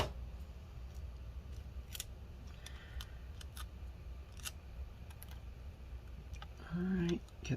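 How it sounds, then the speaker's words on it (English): Scissors snip a piece of tape during disassembly of an HP Pavilion Gaming laptop 15-cx0045nr, giving a few quick, dry cuts over a low, steady background hum. "Some more tape over here. Okay. Like that. Cut a piece off."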